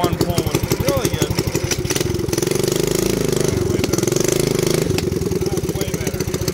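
Small single-cylinder mini bike engine fitted with a Mikuni carburetor, started and left idling close by, a loud fast steady putter with uneven pulses that rises briefly in pitch before settling back.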